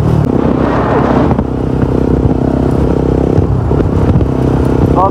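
A Bajaj Pulsar RS200 motorcycle being ridden on a bypass road gives a loud, continuous engine rumble with wind buffeting, close and steady throughout.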